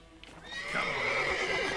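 A horse in The Witcher 3 video game, with clip-clop hoofbeats followed by a loud, drawn-out neigh rising over the steps, close and clear.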